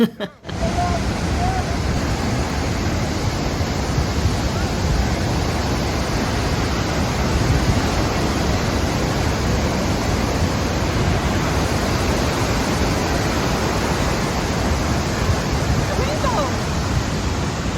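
Victoria Falls on the Zambia side gives a constant, loud, broadband roar of falling water that holds steady and dense from start to finish, with wind buffeting, up close.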